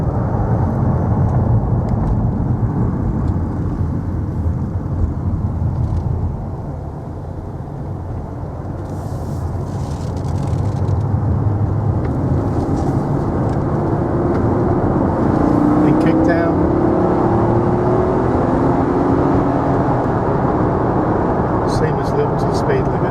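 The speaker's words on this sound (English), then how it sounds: "5 litre V8, so plenty of power. We'll just get around this roundabout and just open up a little bit." A 1997 Mercedes SL 500 with a 5-litre V8 accelerating on the road after a roundabout: a steady engine drone with road and wind noise that swells as it speeds up, while a person talks throughout.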